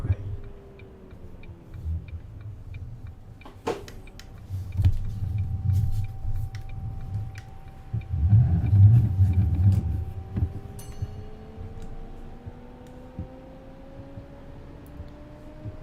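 A First articulated bendy bus drives Bristol route U18 in a bus simulator game, its low engine rumble swelling and easing with a steady whine, while an indicator ticks in a regular rhythm over the top.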